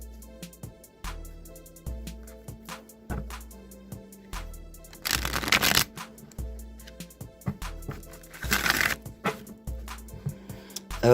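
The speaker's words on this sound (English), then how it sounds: "I'm just going to shuffle this deck 3 times" A tarot card deck is shuffled several times up close, with soft papery riffles and taps, and two louder bursts of flicking cards between quieter handling sounds.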